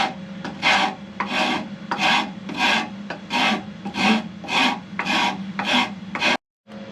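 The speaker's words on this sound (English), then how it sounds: "So I've got the rasp, and I'm just going to shave down to the line." A rasp shaves wood on a mandola body in about a dozen rhythmic strokes, a rough scraping rasp repeating steadily, close and loud, then stopping abruptly.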